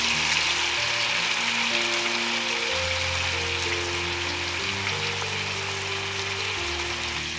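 Salmon fillet searing in a pan with lemon juice and zest, a loud continuous sizzle and crackle of frying that holds steady throughout, alone without talk.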